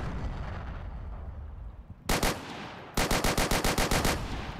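Rifle and automatic gunfire crack in a World War II shooter game set on Gold Beach, first a short burst, then after a pause a rapid, evenly spaced string of loud shots.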